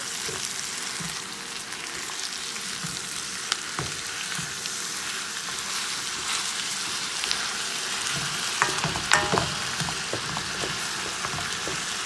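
Mince frying in a pan gives a continuous close sizzle and crackle, steady throughout, with occasional light scrapes and taps near the end.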